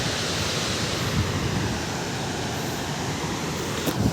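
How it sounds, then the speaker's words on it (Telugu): Kuntala waterfall roars as a steady, dense wash of rushing water, loud and unbroken throughout with no voices. "ఇదే కుంటాల వాటర్ ఫాల్స్"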